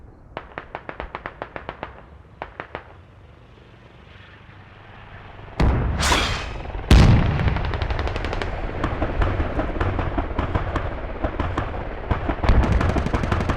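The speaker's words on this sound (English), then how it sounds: "mortar is landing right on top of them." Mortar shells land in the military shooter Squad during a tournament match, loud sustained blasts and rumbling debris after rapid distant gunfire bursts, with heavy crashing impacts continuing close by.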